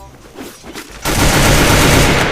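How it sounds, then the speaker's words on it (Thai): Rapid, loud SCAR rifle gunfire in a video game bursts in suddenly after a moment of quieter rumbling, a sustained automatic stream of shots. "สกาเป็นปืนที่ดังมาก"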